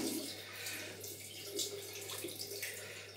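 Water runs steadily from a tap to wet a shaving brush, a soft, constant hiss and splash heard close by at low volume.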